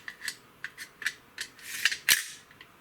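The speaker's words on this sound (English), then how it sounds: "just slide the bolt back in and put the top section back on" Metal bolt of a Tokyo Marui M4 gas blowback airsoft rifle slid back into the receiver, heard as a string of small, close clicks and scrapes ending in a brighter snap.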